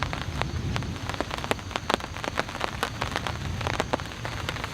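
Rain patters onto a camping tarp and tent during a heavy storm, a dense, close drumming with many sharp individual drop hits and no talking.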